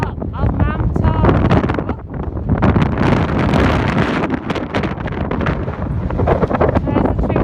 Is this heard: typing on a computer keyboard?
no